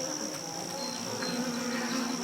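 Honeybees at a hive beside a queen cage hum in a steady, close drone. The tone is continuous and layered, and no one speaks.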